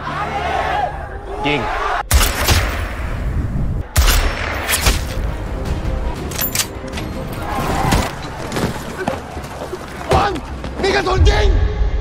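Police open fire on protesters during a riot: several sharp, loud bursts of gunfire crack out in the open amid a shouting crowd, with a voice talking over the chaos between shots.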